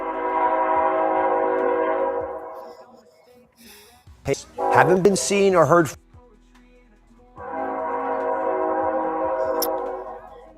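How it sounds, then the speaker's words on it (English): A train passes close by with two long, loud, blaring horn blasts, separated by a stretch of talking and rumbling wheels. "Let's get the train past us."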